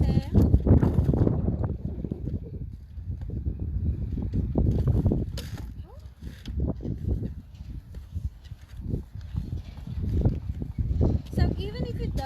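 Wind gusts buffet the microphone on a seashore, heavy rumbling low-frequency blasts that come and go throughout as a person talks.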